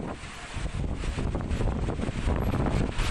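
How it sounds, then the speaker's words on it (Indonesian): Strong wind and heavy rain lash southern Tangerang in a daytime storm, a dense, continuous roar buffeting the microphone with no pauses, loud and close throughout. "hujan deras disertai angin kencang mengguyur kawasan Tangerang Selatan Selasa siang"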